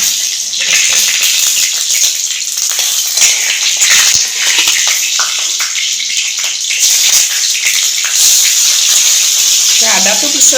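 Dried red chillies and bay leaves fry in hot oil in a wok, a loud, continuous crackling sizzle with frequent small pops, close by and running unbroken for about ten seconds.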